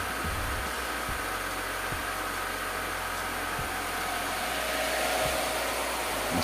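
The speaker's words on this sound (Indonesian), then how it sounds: "penggunaan kipasnya ini memang tidak terlalu berisik karena dia menggunakan kipas" A high-speed 8x8 cm cooling fan in a homemade power amplifier blows with a steady, close airy whoosh and a low hum, holding constant throughout with a few faint soft knocks.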